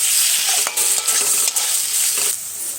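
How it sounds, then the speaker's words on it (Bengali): Pre-fried potatoes are tossed into spice paste and stir-fried in a pan for a spicy tangra fish curry, giving a loud, continuous sizzle with quick spatula scrapes and knocks. "এবার আমি আলুটা দিয়ে দেবো, দিয়ে আবার একটু কষিয়ে নেব।"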